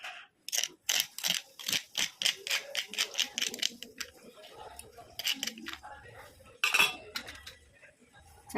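Red chilli chutney pounded in a new stone mortar: a rapid series of sharp stone-on-stone thuds, fairly close, that slows and thins toward the end.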